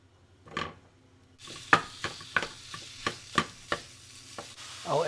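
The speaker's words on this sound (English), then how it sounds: "You need to cook your meat first." Polish sausage meat fries in a pan with a soft, continuous sizzle. Repeated clacks of a utensil stirring and scraping against the pan sound close up, with no voices.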